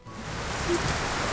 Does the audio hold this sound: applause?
no